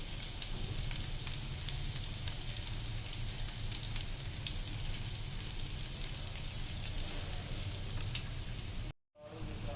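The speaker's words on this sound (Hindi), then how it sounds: "तो इस तरह हम इसको फ्राई करते रहेंगे, साथ साथ इसकी साइड जो है वो चेंज करते रहेंगे" Butter garlic chicken frying in a pan, a steady close sizzle and crackle of hot fat running throughout before cutting out abruptly near the end.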